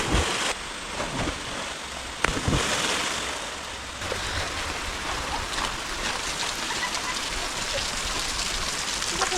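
Steady rain falls outdoors as a dense, even hiss that runs throughout, with a few sharper splashes near the start and no voices.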